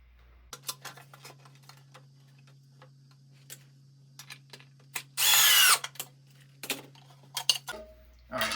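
A cordless power drill drives screws into lumber rack brackets in two short bursts, one faint and one loud whirring burst, between scattered clicks and taps of handling the hardware, with no speech.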